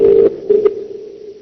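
A telephone tone plays while a call is being placed: two short, steady, low beeps close to the handset, followed by a quiet fading tail.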